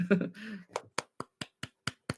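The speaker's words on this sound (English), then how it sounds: "That deserves a round of applause." Audience applause at a goal-setting talk: a short burst of voice gives way to about eight crisp, evenly spaced claps in a steady beat, close and moderately loud.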